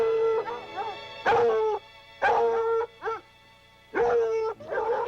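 Hound dogs bay and bark in loud, drawn-out bursts while out with the pack on the fresh trail of lion and deer, several long howling calls separated by brief pauses, close and clear.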